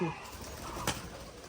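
Pigeons at a pigeon farm give a soft low coo, with a brief fluttery rustle near the end, heard faintly behind a quiet murmur.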